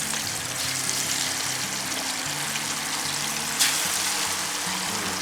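Shanghai-style chicken frying in oil, with a steady, dense sizzle and crackle running unbroken throughout and a brief sharper hiss burst near the end, close and moderately loud.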